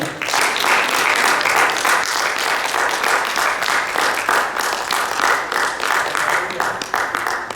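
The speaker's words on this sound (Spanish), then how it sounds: "Un aplauso para el Señor." A church congregation applauds for the Lord in a dense, loud, sustained wash of many hands clapping, with faint voices mixed in.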